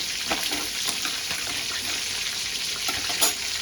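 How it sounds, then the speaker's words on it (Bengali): Spices dry-frying in a pan over a low gas flame give a soft, even sizzling hiss throughout, with faint crackles scattered across it. "গ্যাসের ফ্লেমটা আমি একদম লো করে দিয়ে ভেজে দেবো"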